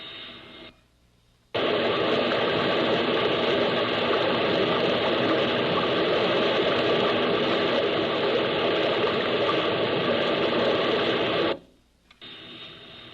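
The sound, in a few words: water pouring through dam penstock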